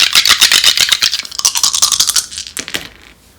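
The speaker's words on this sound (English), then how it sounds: "Did I roll the dice for this?" Astrology dice rattle and tumble on a hard surface, a rapid clattering burst of small clicks that slows and fades to a stop, close and loud.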